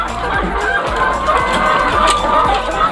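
Chickens cluck and chatter continuously inside a coop, many birds overlapping in a dense, busy, close-up chorus with no pauses.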